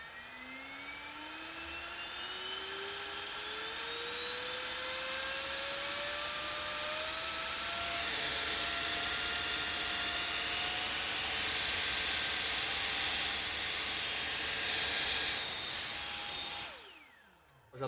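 A modified HORM cordless battery air blower motor winds up from a low hum into a loud, rising high-pitched whine that climbs steadily for about sixteen seconds before cutting off abruptly, with no talking.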